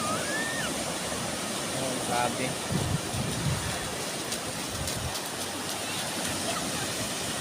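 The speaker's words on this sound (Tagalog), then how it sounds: "Sobrang laki ang mga alon." Huge ocean waves stirred up by Typhoon Kristine roar steadily as a loud, continuous wash of surf along the shore, with a man briefly exclaiming over the noise.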